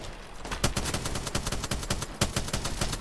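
Rapid automatic gunfire fills a video game firefight, loud and continuous with dense bursts of shots and no pauses.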